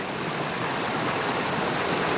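A river stream flows through deep forest in a remote, rarely visited spot, its steady broadband rush of water continuous and fairly close, with no voices over it.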